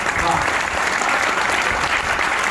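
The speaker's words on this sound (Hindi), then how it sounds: "आपकी तालियां कमजोर है" Audience applause at a Hindi poetry gathering (kavi sammelan) in Ghaziabad, a loud, steady wash of clapping from a crowd that fills the whole stretch without pause.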